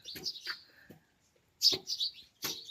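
Sparrows chirp near a village house, giving a few short, bright tweets in separate clusters with a quiet gap between them, close and clear with no talk.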